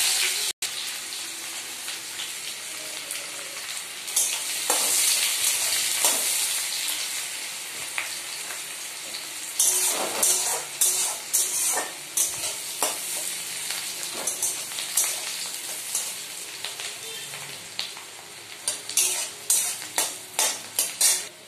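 Chopped onions go into hot oil already holding bay leaf and cumin. A loud, bright sizzle swells, then gives way to a run of rhythmic spatula scrapes and stirs against the pan toward the end. No talking.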